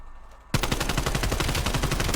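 Rapid automatic gunfire in Call of Duty: Black Ops Cold War bursts in loudly after a short quiet lead-in, then rattles on as a dense, continuous stream of shots to the end.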